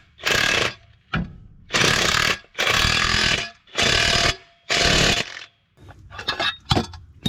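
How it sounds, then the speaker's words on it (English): Loud, close bursts of pneumatic impact hammering from a press tool forcing a ball joint into its cup on a Nissan 300ZX, about six long rattling blasts followed by shorter choppy bursts. "Just like that, your ball joint is now freshly pressed in."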